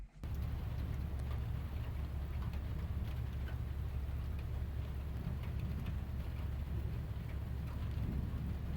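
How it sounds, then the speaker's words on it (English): Heavy rain pours steadily in a nighttime thunderstorm, a dense, even hiss with low rumbling thunder beneath, continuous and fairly distant in level. "places where they don't get the big storms like we get here"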